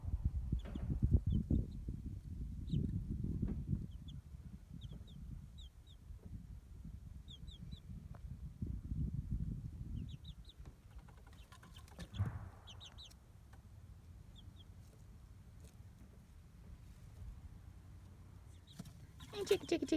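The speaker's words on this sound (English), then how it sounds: "We got chickens." Chickens on a small family homestead cluck softly and intermittently at a distance, with a few short bursts of clucking between quiet stretches and some low talk.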